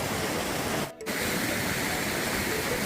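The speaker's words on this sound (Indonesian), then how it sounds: "kita juga mendengarkan suara air gemericik" Clear river water from a Mount Ciremai spring in the Cilengkrang valley, Kuningan, West Java, rushes in a steady, full broadband wash. The flow is close and loud and pauses briefly near the one-second mark.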